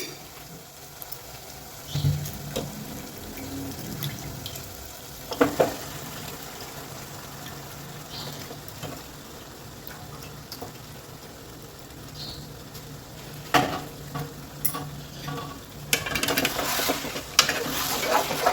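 Half a kilo of chicken tipped into a pot of cooked tomatoes and stirred, giving intermittent clattering and scraping bursts over a low steady background, with no talking.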